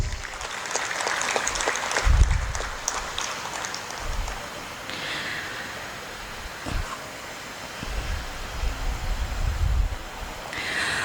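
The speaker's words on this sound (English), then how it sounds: "please give them a big round of applause" Audience applause at a university international opportunities fair event, a sustained spread of clapping with some bumps and rustles from the room, fading somewhat midway before rising again.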